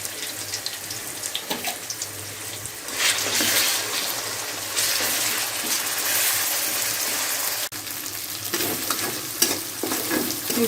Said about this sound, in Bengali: এগুলো একটু ভাজা হয়ে গেলে আমি মুরগির মাংসটা দিয়ে দিব।